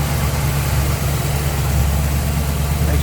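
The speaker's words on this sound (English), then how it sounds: "Nice smooth running engine" A 1964 Chevrolet Impala SS with a 327 V8, headers and power steering idles close by. The steady, loud, deep rumble runs smoothly and evenly throughout, with no talking.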